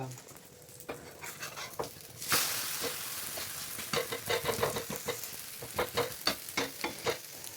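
A masala omelette frying in a pan over a medium flame, with a soft steady sizzle and bursts of crackling and spatula scraping, close but fairly quiet, with no voices.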